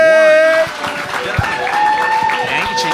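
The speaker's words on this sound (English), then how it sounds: "Start clapping your hands right now for Felix Levine." An audience claps and cheers at a live comedy show at City Winery, with a bright musical tone and an announcer's voice over the crowd.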